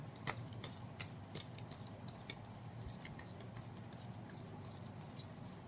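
Tarot cards are shuffled by hand in quiet, soft bursts of rapid papery flicks and taps, faint and close, with short pauses between riffles and no talking.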